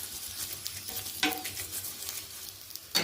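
An aloo paratha fries on an overheated tawa with a steady, dense sizzle, broken by a couple of sharp scraping stirs or flips, and no one speaks.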